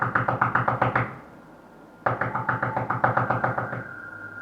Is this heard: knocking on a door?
yes